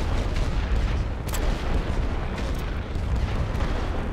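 Continuous low rumbling roar of a distant artillery barrage in a World War I video game on the Western Front near Lille, a dense, steady wash of booms with no clear separate shots.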